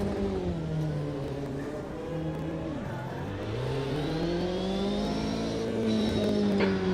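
A 1990s F1 race car engine in Automobilista 2 at Spa-Francorchamps revs through the gears with rising and falling pitch and shifts as it accelerates, loud and close, with no talking.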